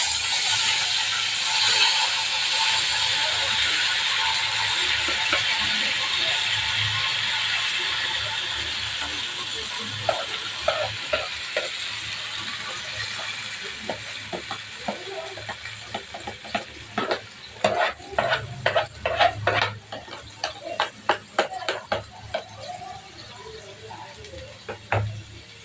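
About a kilo of tomatoes cooking in hot oil for tomato thokku: a broad hiss of frying at first, giving way to rapid clattering, scraping stirs that grow louder and busier toward the end.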